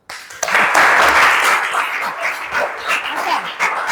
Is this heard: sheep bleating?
no